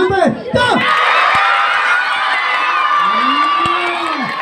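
A crowd at a neighborhood association anniversary event in Davao cheers and shouts for entry number 2. Loud, dense cheering runs throughout, with excited voices calling out near the start and again later.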